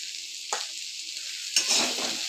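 Shrimp and flat beans sizzle in a hot pan with roasted cumin powder while being stirred, producing a constant frying hiss broken by two scraping stirs that briefly swell the sizzle; no one speaks.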